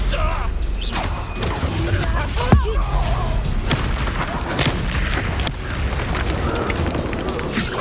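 Confringo blast spell explosions in the Hogwarts Legacy video game: one sharp, loud boom stands out mid-clip over a dense, continuous bed of rumbling combat effects.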